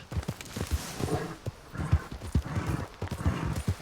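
Horse hoofbeats from riding in the game Red Dead Online: a steady, repeated clip-clop of galloping or trotting hooves, close and fairly loud, with no talk over it.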